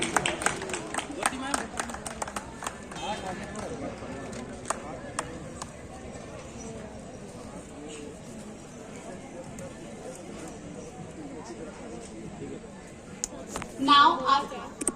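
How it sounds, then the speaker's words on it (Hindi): Audience applause at a college cultural function, sharp dense clapping at the start that thins out into scattered claps and background murmur, with a brief loud burst near the end. "I request all the audience की तालियां रुकनी नहीं चाहिए"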